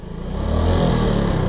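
The engine of a 2025 Suzuki Smash motorcycle revs up close and loud, climbing over the first half second and then holding a steady rough drone.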